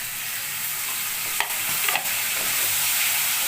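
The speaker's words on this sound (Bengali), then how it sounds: "আমি এবার মটরশুঁটিগুলো সব দিয়ে দিলাম।" Chicken pieces with green peas fry in a pan with a steady, bright sizzle, while a few quick scrapes and knocks of a stirring utensil cut through. Close and continuous, with no talking.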